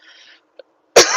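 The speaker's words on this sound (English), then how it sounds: "I'm coughing because I had a cold water, ice water" A single sharp cough bursts out near the end after near silence and a faint breath, loud and close.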